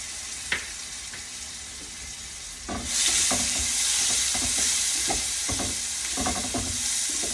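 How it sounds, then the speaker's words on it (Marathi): Chopped tomato sautéed in a pan for a gourd dish, a soft sizzle that swells louder once the tomato goes in, followed by repeated scraping stirs against the pan, with no voices. "हा आपण छानपैकी परतून घेऊया"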